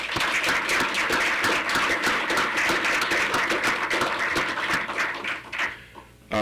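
A Faculty Senate audience applauding, dense overlapping claps that hold steady for several seconds, then thin out and fade near the end.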